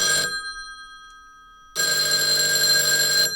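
Two bursts of a telephone bell ringing, separated by a short pause, loud and close with no talk over them.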